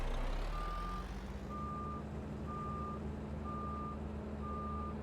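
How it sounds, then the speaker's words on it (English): Vehicle reversing alarm in Farming Simulator 19, five evenly spaced steady beeps about once per second over a low, constant truck-like engine drone, moderately distant and uniform. "And do tractors have that reverse sound?"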